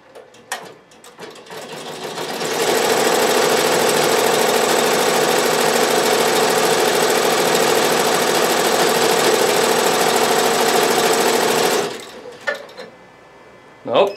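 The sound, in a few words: Avancé sewing machine stitching to fill in a design area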